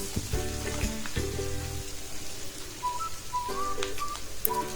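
Medium-cut onion sizzles and fries in a hot pan for chilli parotta, a steady close crackle joined by a few clanks and stirring scrapes, with no voices.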